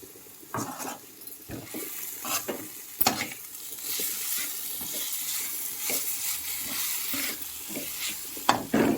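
Bitter gourd pieces stirred into shiny jaggery syrup in a pan, with a steady close sizzle and intermittent scraping strokes of a spoon.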